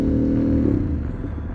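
A Harley motorcycle engine with a suspected weak alternator revs hard, a loud, steady low rumble held throughout without voices.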